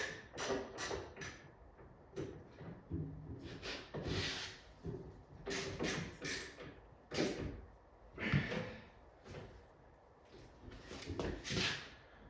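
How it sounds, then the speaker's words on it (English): A 1964 Chevy Impala door being lifted on its hinges during installation gives repeated creaks, knocks and rubbing metal-and-wood-like clunks in irregular bursts, close but fairly quiet, with no talking. "I'm going to lift up on the door."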